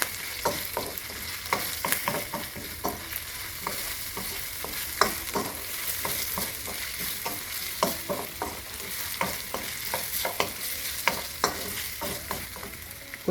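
Meat and corn fry in a pan for Jamaican-inspired chicken lo mein, with steady sizzling broken by frequent rhythmic scraping and clattering strokes of a spoon stirring throughout, close and fairly loud, with no talking.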